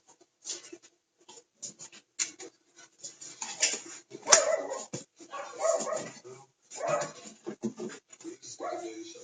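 A dog barks and whimpers indoors in short, irregular bursts, fairly close and moderately loud, mixed in with people talking in a home.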